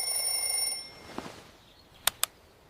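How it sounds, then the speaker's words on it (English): Alarm clock ringing in a bedroom in the early morning: a steady high electronic tone that stops, followed by two sharp clicks as it is switched off, fairly quiet with no voices. "I turn off the alarm."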